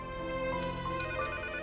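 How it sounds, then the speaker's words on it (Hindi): A telephone ringtone plays on its own, a steady tonal melody with bright repeating notes, moderately loud and close by. "फोन बज रहा है, मैं देखता हूँ।"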